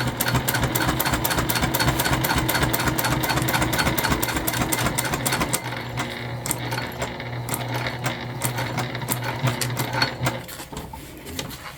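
A sewing machine top stitches a convertible bag an eighth of an inch from the edge, running fast and steady with a rapid mechanical clatter that shifts pace partway through and thins toward the end.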